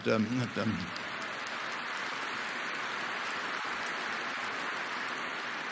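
A large arena audience at the Berkshire Hathaway annual meeting applauds the company's managers, a broad, steady roar of clapping from far off that follows a brief spoken voice and carries on evenly.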